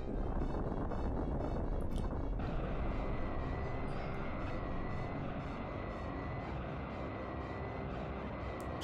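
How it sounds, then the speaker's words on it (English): K. Rool's jet aircraft in the Donkey Kong 64 video game gives off a steady loud engine roar with a whining hum, unbroken throughout and heard alone. "K-Rool's jet thing."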